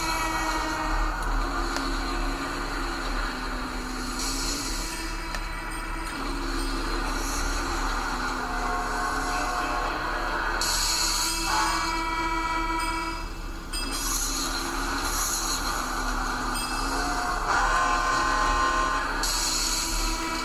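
Metro train running in the city-building game Cities in Motion, a steady rumbling rail drone with tonal horn-like swells and brighter squeals recurring across the clip, without talk.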